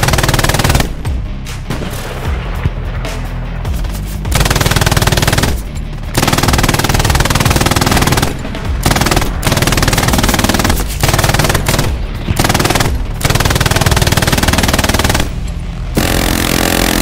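MG42 machine gun in the World War II game Hell Let Loose, very loud close sustained bursts of rapid fire broken by short pauses, running nearly continuously.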